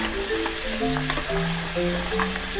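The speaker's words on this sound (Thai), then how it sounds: "ก็นำซี่โครงที่เราทอดไว้มาสักครู่เนี่ยค่ะ นำลงคั่วได้เลยค่ะ" Fried pork ribs are stir-fried in soy sauce in a hot pan, giving a close, continuous sizzle with a faint melodic tone running underneath.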